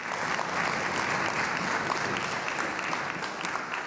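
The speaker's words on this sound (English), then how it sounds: "How about a big round of applause for everybody who shared?" An audience at a live podcast recording during a spring leadership seminar gives a dense, even round of clapping that carries on steadily throughout, with no voices over it.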